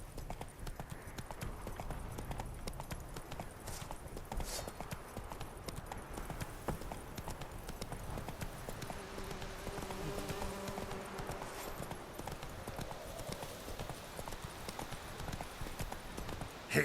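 Roach, the horse in The Witcher 3, clip-clops steadily at a walking pace, hooves tapping in an even rhythm throughout and layered over ambient game sounds and a low musical drone, at moderate distance and fairly quiet.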